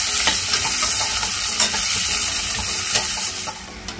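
Chopped onions fry in a pan for zunka, giving a dense, steady sizzle close by, with occasional stirring scrapes and clinks layered on top.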